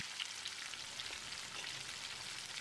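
Chicken 65 pieces fry in hot oil, giving a steady, soft hiss and crackle of sizzling that continues evenly without pauses.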